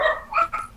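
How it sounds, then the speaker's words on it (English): A dog barks once or twice nearby, a short sharp yelp heard alone in the background of a live call-in broadcast. "What's up with the dog barking?"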